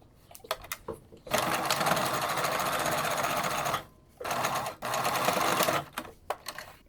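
A sewing machine stitching a fabric face mask, running in a few short taps, then two sustained whirring bursts separated by a brief pause, close and clear.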